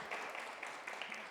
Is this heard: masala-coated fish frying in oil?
no